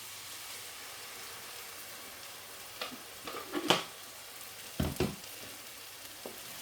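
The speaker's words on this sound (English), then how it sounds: "Next, we're going to add our blended tomatoes." Blended tomatoes hitting a pan of frying onions and spices, a steady low sizzle with several close clattering bursts of stirring and scraping.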